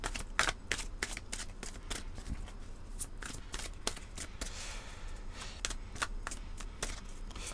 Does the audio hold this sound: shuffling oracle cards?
yes